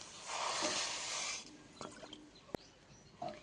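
Water is poured into a wok over sugar for syrup, a short gushing splash that fades into soft trickles, drips and a light clink, close and fairly quiet.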